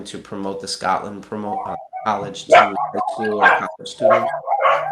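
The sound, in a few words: dogs barking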